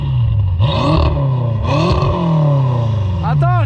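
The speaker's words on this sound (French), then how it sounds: "Mets des petits coups de gaz." A tuned BMW M5 with a Shiftech remap revs loudly up close in short throttle blips, the engine note rising and falling in quick sweeps before settling to a rough idle with a brief sharp flutter at the end.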